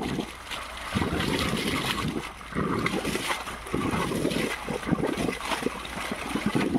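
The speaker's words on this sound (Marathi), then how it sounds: "बघू शकता गढूळ पाणी आलं का" Muddy, soil-laden water gushes steadily from a pipeline into a farm field, a continuous close rushing and splashing that keeps going without a break.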